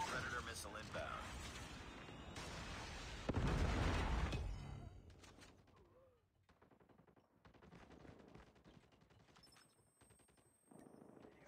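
Predator missile strike exploding in Call of Duty: Mobile multiplayer, a loud burst of blast and rumble mid-clip amid scattered gunfire, followed by quieter crackling battle noise and game voice lines.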